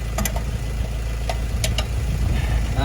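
A VW Caddy Mk4 diesel engine idles steadily close by with a constant low rumble, while a few brief metallic clicks and taps sound over it.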